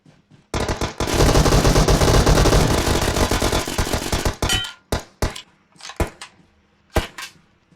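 Gunfire from the PUBG Mobile video game: a long, loud burst of rapid automatic fire followed by several sharp, separate single shots, with no talking over it.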